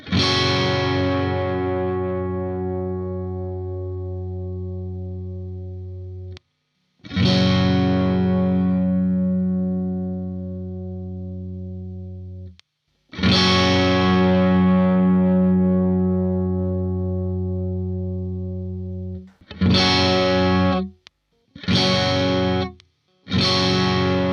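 Electric guitar with overdrive through a Neural DSP Quad Cortex or Fractal Audio FM3 amp modeler strums sustained chords that ring out and decay, then a few short choppy stabs, loud and close.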